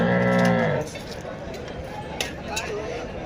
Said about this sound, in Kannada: ಎಲ್ಲ ಎತ್ತುಗಳು ಬಂದವು.